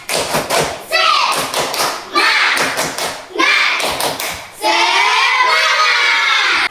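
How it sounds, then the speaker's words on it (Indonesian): A classroom of students doing a rhythmic spirit clap, sharp bursts of clapping and thumping in short patterned sets, each answered by shouted chanting from the group, loud and close, ending in a long collective shout. "Tepuk semangat."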